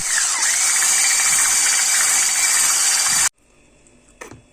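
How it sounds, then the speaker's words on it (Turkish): An electric hand mixer whips cream with milk for a cake topping, a steady loud high-pitched whir running for about three seconds before cutting off abruptly, followed by faint kitchen noise. "mikserle güzelce karıştırıyoruz."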